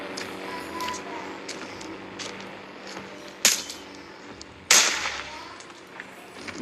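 A pistol fires twice in a video game, two sharp, fairly loud cracks about a second apart over a quiet background hum.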